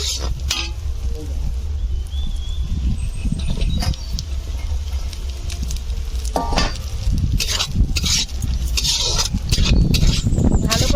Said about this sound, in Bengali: গাজরটা হালকা করে ভাজা হয়ে গিয়েছে এবার ক্যাপসিকামটা দিয়ে দেবো